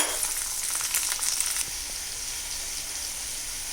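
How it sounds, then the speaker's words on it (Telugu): Chopped tomatoes hit an onion tempering for upma in a hot pan, giving a loud, steady frying sizzle that is briefly busier at first and then settles into an even hiss. "ఇప్పుడు మనం టమాటాలు వేసుకుందాము"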